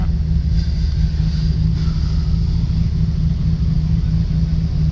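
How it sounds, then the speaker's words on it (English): A Nissan GT-R sits idling at night with a steady, deep, low rumble that holds constant throughout, close by and with no talking. "I just love sitting here listening to the idle."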